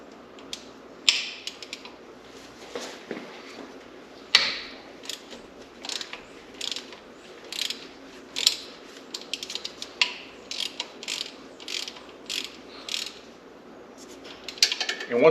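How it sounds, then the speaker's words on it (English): A ratchet clicks repeatedly while loosening the rear differential fill plug on a Ford AWD, bursts of sharp metallic pawl clicks in a steady working rhythm, close and fairly loud, with faint creaks between strokes. "we are going to need to remove this fill plug"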